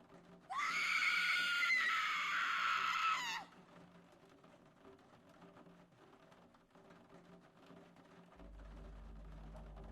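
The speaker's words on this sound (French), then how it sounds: "tu as l'impression d'entendre un hurlement de femme venir de plus loin dans le bateau" A woman's loud, sustained scream from farther away on a ship, lasting about three seconds, followed by quiet ambient hum and a low drone near the end.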